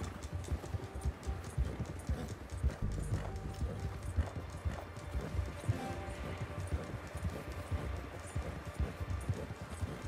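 Horse hooves galloping in the Red Dead Redemption 2 video game, a steady rapid clip-clop running throughout with dense game ambience beneath.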